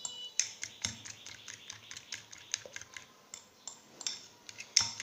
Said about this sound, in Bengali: ডিমটা মোটামুটি আমার ফাটানো হয়ে গেছে।